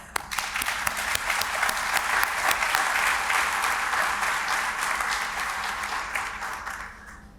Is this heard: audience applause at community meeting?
yes